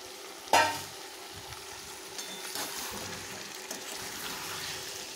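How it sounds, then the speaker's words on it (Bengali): Boiled potatoes stirred and fried in a spiced masala for a curry, opening with a sharp clank of a utensil, then a steady moderate sizzle and soft stirring, no talking. "ভালো করে মশলার সঙ্গে আলুগুলো নাড়তে থাকবো"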